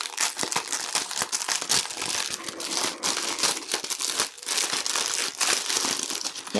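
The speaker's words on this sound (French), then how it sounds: "Oh là là, j'ai tout déchiré, évidemment Karine." Dense crinkling and rustling of a Temu parcel's packaging being unboxed, continuous and close, with sharp tearing rips scattered throughout; no voices.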